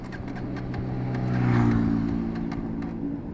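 A KTM Duke 250 motorcycle that is out of fuel is cranked but fails to start, giving a steady low mechanical churn that swells briefly in the middle and never catches, heard close and alone.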